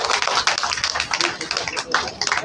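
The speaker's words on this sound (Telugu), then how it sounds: "ఒక్కసారి గట్టిగా చప్పట్లు కొడితే బాగుంటుందేమో" Audience clapping hands at a women's festival event, rapid irregular claps from a crowd in a lively, fairly loud burst lasting a couple of seconds, with voices mixed in.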